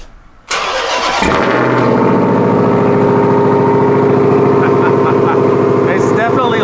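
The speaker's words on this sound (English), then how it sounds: "a cold start here, of course we got to do one on the TRX as well" A Ram TRX pickup's 702 hp engine cold-starts after a brief quiet moment, catching with a sharp burst and settling into a loud, steady, rumbling exhaust idle that continues close up to the end.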